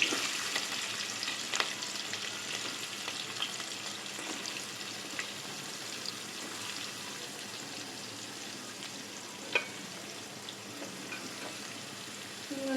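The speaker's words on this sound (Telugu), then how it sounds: "ఫ్రై చేసుకొని ఇప్పుడు ఆనియన్స్ అన్నీ వేసేసుకోవాలి" Onions frying in a pan for a home-cooked dish with mango, tomato and drumstick, a steady, fairly quiet sizzle and crackle that runs throughout with an occasional faint clink, and no voices.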